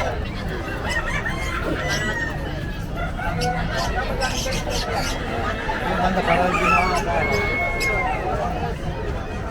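Roosters crowing and clucking at a fighting-cock market stall in Bocaue, steady bird calls over a busy crowd, with people talking nearby throughout.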